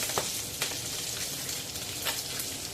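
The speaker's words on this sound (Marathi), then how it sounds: "ही चिवणी आपण अजून चार ते पाच मिनटं फ्राय करून घेऊया" Chivni fish fry in a pan, a soft, fairly quiet sizzle with a few brief crackling pops.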